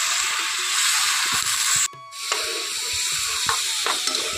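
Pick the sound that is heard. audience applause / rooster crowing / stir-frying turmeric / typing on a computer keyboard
stir-frying turmeric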